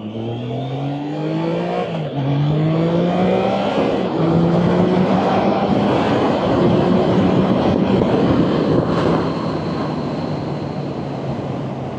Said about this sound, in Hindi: अभी तुमने देख ही लिया होगा कैसे खींचा बाइक ने